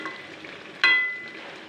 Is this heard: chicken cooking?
yes